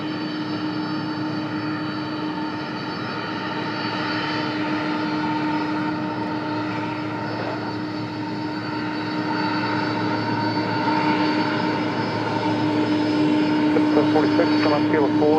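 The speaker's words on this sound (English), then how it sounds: "Getting this wide body coming in from SFO." A wide-body airliner arriving from San Francisco roars steadily, its engine drone swelling gradually as it approaches, with a voice talking over it.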